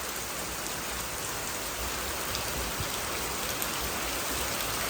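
Heavy rain pours down in a dense, steady hiss that stays loud and continuous throughout, with no voices.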